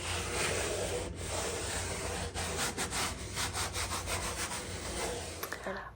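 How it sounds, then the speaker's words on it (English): Wood for a DIY chicken tunnel is rubbed or sanded by hand in continuous coarse strokes, loud and close, with a rhythmic scraping pulse toward the end. "Now I'll just kind of go back and"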